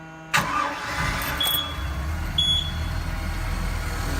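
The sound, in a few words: car engine starting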